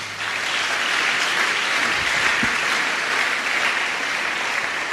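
Steady, dense applause from a church congregation during a sermon, filling the whole stretch at an even, loud level with no pauses.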